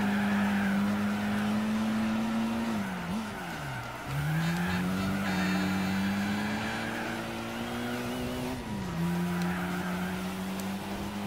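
Race car engine in Gran Turismo 4 during an Umbria rally event (Mazda Kusabi nearby), droning steadily at high revs, dipping twice as it slides through corners, with tire skid noise throughout.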